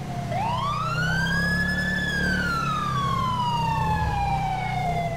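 A single police siren in GTA 5 with the LSPD:FR mod wails in one long rising and falling sweep, loud and close over a low engine rumble, with no talking.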